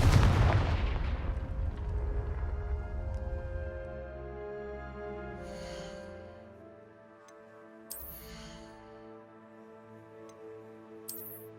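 Confringo explosive spell blast in the Hogwarts Legacy video game: a loud booming impact that rumbles and rings out over several seconds, followed by faint magical chimes and a couple of light ticking clicks, no speech.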